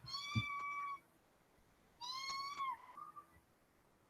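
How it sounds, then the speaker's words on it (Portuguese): A house cat meows twice, two drawn-out plaintive calls about a second apart, close by and fairly quiet against faint room noise, with a soft thud near the start. "Gata chata."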